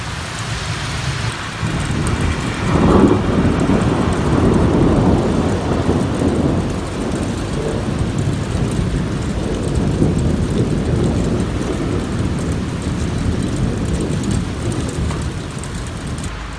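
A heavy nighttime thunderstorm over Amiens, with a loud thunder rumble building early on over continuous, dense rainfall that keeps drumming steadily to the end.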